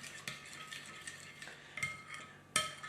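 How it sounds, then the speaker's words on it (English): A spoon stirs a cookies-and-custard dessert mixture laced with liqueur in a bowl, giving soft, close scraping and light clinks in an irregular rhythm, with a sharper knock near the end. "Okay, so we just want to mix that through."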